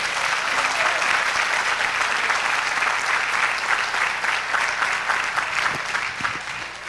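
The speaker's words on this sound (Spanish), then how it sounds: "Vamos a darle un aplauso a Jesús de Nazaret." A church congregation breaks into steady, dense applause lasting several seconds, even and full throughout before tapering slightly at the end, with no voices over it.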